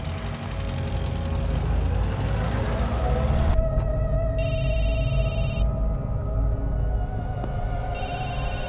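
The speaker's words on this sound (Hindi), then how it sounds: "किसका फोन है" A telephone rings in two electronic bursts during a scene in a Hindi-dubbed film, heard over a steady engine-like rumble and background hum.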